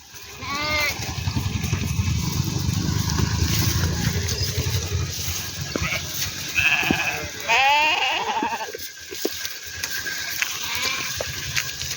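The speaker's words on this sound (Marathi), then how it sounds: "खूप तंदुरुस्त मेंढ्या आहेत" A flock of sheep on an Indian farm, including a Renapur ram, a native Gavran ram and crossbreds, bleats in repeated wavering calls, some close and loud, over steady farmyard background noise.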